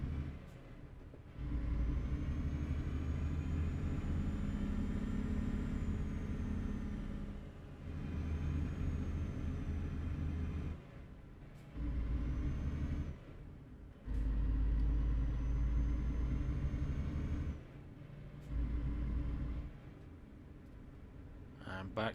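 A truck's engine labours steadily up a mountain road, a loud low rumble that drops away and returns in bursts several times, with a faint whine riding above it.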